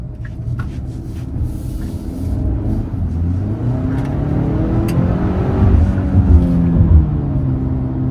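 A 2023 Hyundai Santa Cruz pickup engine revs up from a low idle into a rising, climbing growl as it accelerates, loud and close, with light clicks early on.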